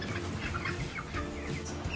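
Pullets in a small 5x4 chicken tractor peep and chirp softly at close range, a steady scatter of short calls over low background rumble, with no talk.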